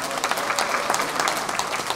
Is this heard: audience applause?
yes